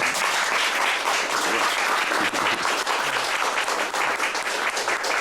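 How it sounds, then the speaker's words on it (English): A conference audience gives a round of applause for a birthday, dense steady clapping at full level from start to finish with no speech. "let's all give him a round of applause anyway"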